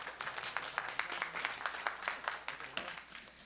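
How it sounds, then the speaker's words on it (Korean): A church congregation claps for graduating youth, a soft, brisk round of applause with individual hand claps distinct, steady for a few seconds before thinning out at the end. "박수 한번 칠까요?"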